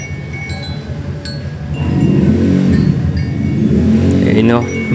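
A motorcycle passes on a road outdoors, its engine note rising and swelling as it draws near over a few seconds, with a person talking briefly at the end.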